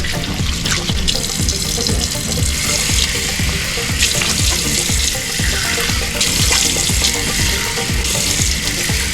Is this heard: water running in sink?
yes